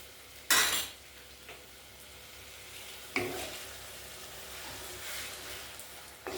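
Spice paste being stirred and fried in a pan, with sharp utensil scrapes and clinks against the metal over a steady low sizzle, fairly close and without talk.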